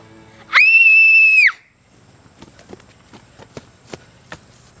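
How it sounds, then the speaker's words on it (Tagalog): A single loud, high-pitched scream holds for about a second, followed by quieter scattered footsteps or small knocks. "bakit ka sumisigaw?"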